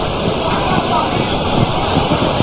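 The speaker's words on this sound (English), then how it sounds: "The winds are getting stronger and stronger." Strong wind gusts roar steadily across an open football pitch during a rainy under-17 qualifying match, a dense, continuous broadband rush that fills the whole stretch at a close, constant level.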